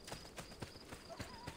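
Horse hooves clip-clop in the Assassin's Creed Brotherhood video game, a faint, steady run of soft hoof knocks under low game ambience.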